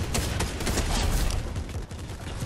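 Gunfire from a gun in the video game Fortnite, a dense, loud run of overlapping shots and bursts filling the whole stretch without pause.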